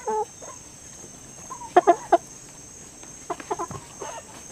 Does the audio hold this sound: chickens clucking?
yes